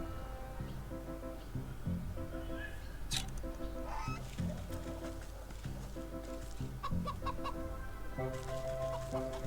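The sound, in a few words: angry goose honking in Wytchwood video game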